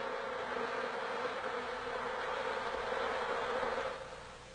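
Honey bees buzz inside a hive, their wings beating in a steady, dense drone that swells slightly before easing off near the end.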